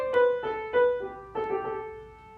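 Piano plays a short ornamented phrase from a Bach hymn setting, with a few clear struck notes and embellishing runs that ring out close and moderately loud, with no voices.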